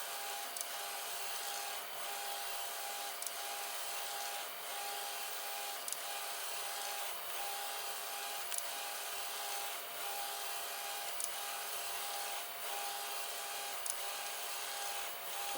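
A 3D printer's stepper motor, rather than its linear bearings, gives off a faint, steady whine that pulses in short repeated bursts, with soft regular clicks every second or so and no talking.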